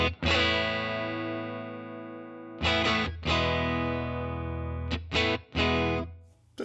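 Electric guitar plays through an AmpliTube 5 '57 Fender Deluxe amp model, a few sustained, ringing chords separated by short silences, clean to lightly driven.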